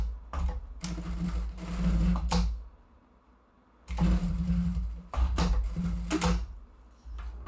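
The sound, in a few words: sewing machine stitching bias binding on a mini pouch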